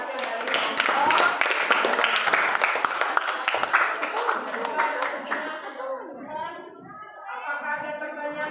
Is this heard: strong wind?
no